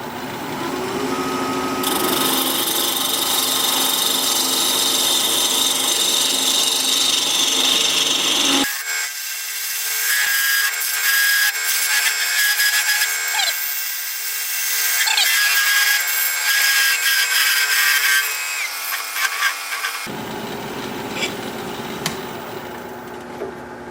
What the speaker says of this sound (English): And then my parting tool to flatten off the end.